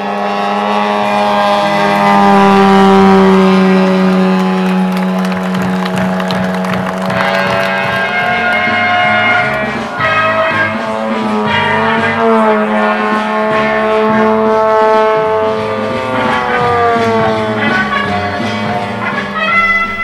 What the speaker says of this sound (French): qui est motorisé par un 3W 160 cm3 quadricylindre